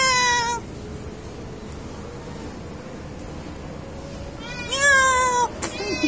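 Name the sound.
cat Timmy meowing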